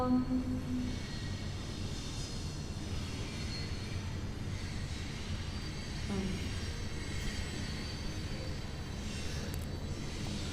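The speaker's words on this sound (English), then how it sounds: "the train goes on just across the river" A train rolls past on the far side of a river, a low continuous rumble heard at a distance, steady throughout with faint outdoor background.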